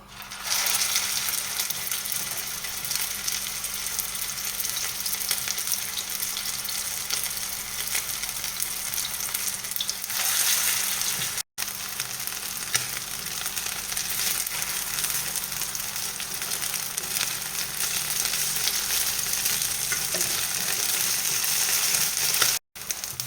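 Potato galettes with gruyère and ham frying in a pan, giving a steady, close sizzle that holds throughout with a few brief breaks and no voices.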